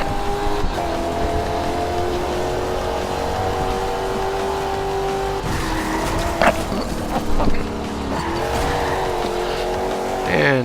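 A race car with a swapped engine in Forza Horizon 2 drones loudly and steadily at high revs, with tire squeal and brief skidding bursts midway and no talk.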